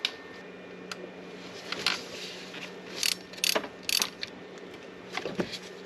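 A ratchet tightens the ground cable bolt on a BMW E70, with bursts of close, crisp pawl clicks in short runs and pauses between them.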